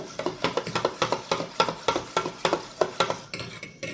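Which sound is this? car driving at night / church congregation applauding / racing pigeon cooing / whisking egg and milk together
whisking egg and milk together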